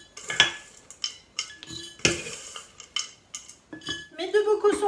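Metal spoon scraping and clinking as homemade granola with added fruit is scooped and packed into a glass jar, a series of sharp close clinks and scrapes at an irregular rhythm, with no talking.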